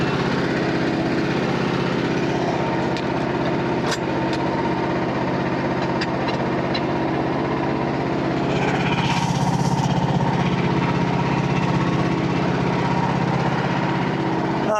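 A Frontier OS27 sawmill's engine runs steadily at a loud, close, unbroken drone, with a slight rise in roar partway through and no voices.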